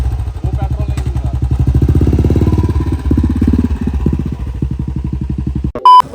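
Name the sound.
motorcycle riding in Kashmir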